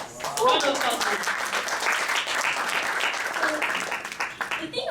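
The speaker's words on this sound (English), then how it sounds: "Round of applause." An audience at a talk-series event applauds warmly, a steady wash of clapping that swells early and carries on evenly, with voices faintly mixed in.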